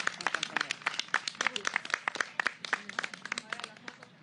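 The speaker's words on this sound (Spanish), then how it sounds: "Así que aplauso para ustedes" Applause at a press conference, a crowd clapping in a steady dense patter of many hands, moderately near and fairly even throughout.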